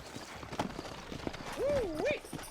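Horses' hooves clop at an unhurried pace in Red Dead Redemption 2's frontier town of New Austin, steady and fairly close, mixed with game ambience and a brief whinny-like tone.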